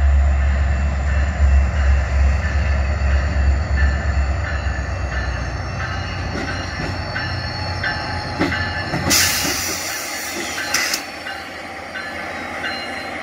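A Rail Runner commuter train rolls past in Albuquerque, a loud sustained rumble with rail noise, ending in a couple of sharp bursts of squealing wheels and hiss.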